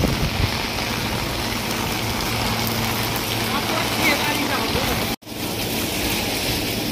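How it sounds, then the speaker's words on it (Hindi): Loud, steady downpour of heavy rain in Delhi, a dense continuous hiss that fills the whole stretch and drops out briefly near the end. "बहुत तगड़ी हो रही है बारिश,"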